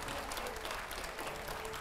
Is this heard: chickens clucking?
no